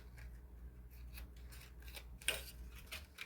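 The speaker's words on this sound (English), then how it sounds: "So just take scissors." Scissors snip through a plastic bottle for a sun catcher craft, a few faint crisp cuts and crinkles, one sharper snip standing out midway, in a quiet room.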